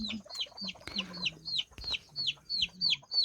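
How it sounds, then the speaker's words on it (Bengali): Backyard chickens cluck close by in a steady series of short calls, with a few busier clucking bursts in between and no talk over them. "তো পরের দিন সকালে উঠে দেখি মুরগিগুলো ঠিকঠাক আছে কি না"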